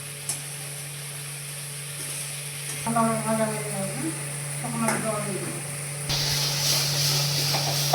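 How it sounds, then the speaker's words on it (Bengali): Spice masala for a braised duck egg curry fries in a pan with a steady close sizzle and hiss, occasional stirring, and a person talking over it partway through. "ডিমের মশলাটা প্রায় ভাজা হয়ে এসেছে"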